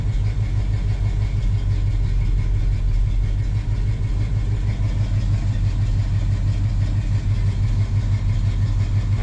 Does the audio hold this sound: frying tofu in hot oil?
no